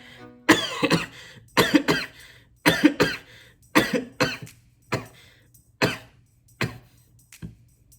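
A series of sharp, raspy coughs, about nine bursts in eight seconds, some doubled, close to the mic with brief quiet gaps between.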